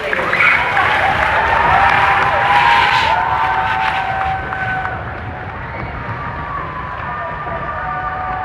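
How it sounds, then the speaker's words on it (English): A school concert audience applauds the 8th graders, a steady, dense wash of clapping that fades slightly toward the end, with a few voices mixed in. "Big round of applause for our 8th graders."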